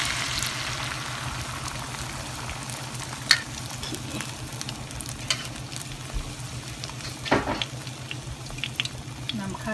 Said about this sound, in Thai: แล้วก็คนหัวกระเทียมให้มัน เหลืองอ่อนแล้วเราก็นำไข่มาใส่เนาะเพื่อน ๆ